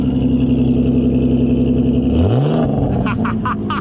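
A 3.5-litre car engine idles loudly through its exhaust with a steady throb, then a sharp rev rises and falls, followed by a few quick throttle blips. Voices talk close over the engine.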